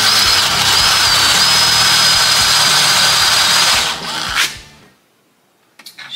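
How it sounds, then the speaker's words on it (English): A power drill turns steadily on low speed, drilling out a broken bolt in steel that sits next to aluminum. The whine is close and loud for about four seconds, then cuts off to silence, followed by a short clatter. "Drill on low."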